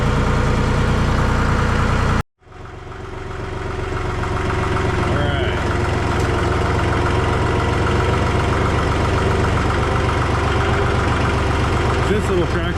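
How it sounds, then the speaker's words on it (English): A small tractor engine runs loud and close at a steady idle, cut off briefly near the start and then resuming its even drone. A voice speaks a short word. "We're going to use this little tractor to pull it into the shop."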